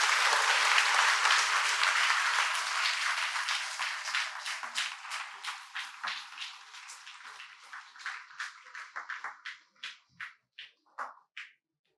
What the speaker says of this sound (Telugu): ఒక్కసారి మళ్ళీ చప్పట్లు కొడదాం